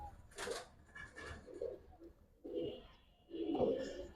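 Giribaz pigeons, silver khaki tumbler birds at a market stall, give several low cooing bursts in loose succession, fairly close, with faint background voices and bustle.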